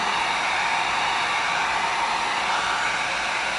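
A heat gun blows hot air onto EVA foam, giving a steady, loud, close whooshing hiss that holds unchanged throughout.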